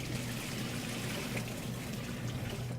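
Steady, continuous pouring of water into a container of pizza dough ingredients, a constant rushing splash with a low hum underneath, close and even throughout.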